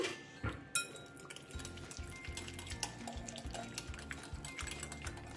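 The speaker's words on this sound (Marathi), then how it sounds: "आता आपण हे विस्करच्या मदतीने छान फेटून घेणार आहोत." A whisk beats softened butter in a bowl for eggless shortbread cookies, making a fast, steady, rhythmic metallic scraping and clicking that is close and fairly quiet.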